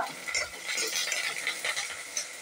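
Large onions with curry leaves and green chillies sizzle and crackle in a hot pan, with a utensil stirring and scraping now and then; steady frying noise close by.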